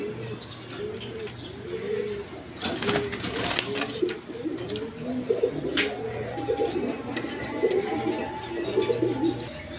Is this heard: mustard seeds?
no